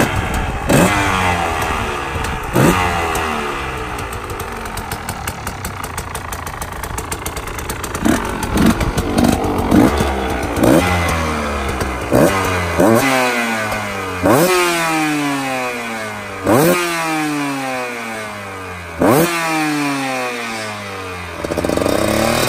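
Husqvarna 125 TX supermoto, a 32 hp two-stroke 125 cc motorcycle weighing 92 kg, revs hard again and again, with sharp rising engine sweeps that fall back between throttle blips, loud and close throughout.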